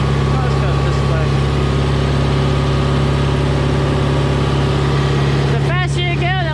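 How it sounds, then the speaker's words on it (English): A Kubota M6040 tractor engine runs in high gear, a loud, steady, close-up diesel drone with a constant throbbing hum that holds throughout, and a voice briefly rising over it near the end. "Shift it to high gear, and look, it's moving much, much faster now. And much louder."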